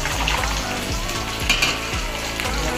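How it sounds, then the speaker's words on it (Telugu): Fish frying in a pan with a loud, steady sizzle, joined by scraping stirs and a few clinks of utensils against the pan. "చేపలతో ఫ్రై చేస్తున్నాం ఫ్రెండ్స్ ఈరోజు."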